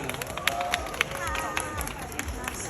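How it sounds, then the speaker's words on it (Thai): Scattered applause from a crowd welcoming a brand ambassador at a Medileen product launch event, individual claps popping over a murmur of crowd noise and background hubbub. "ผมขอเสียงปรบมือดังๆต้อนรับ ต้าเหนือกัญญวีสองเมือง"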